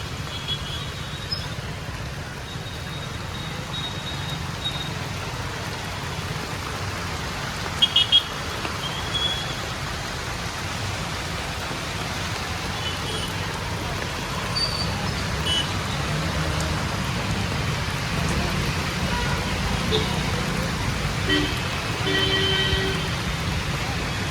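Heavy rain pours in Bhavnagar, Gujarat, in a steady, dense hiss that never lets up, with a low rumble underneath and faint voices in the background.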